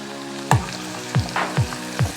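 Garlic and ginger fry in hot oil with a constant close sizzle, broken by four sharp metallic clanks of a utensil against the pan at uneven intervals, no talk.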